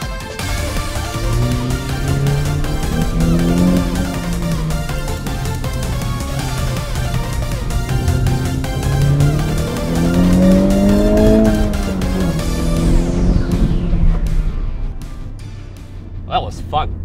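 A 2020 Honda Civic Type R FK8 hatchback being driven hard, its engine rising and falling through loud revs with tire squeal, heard from inside the car before fading near the end.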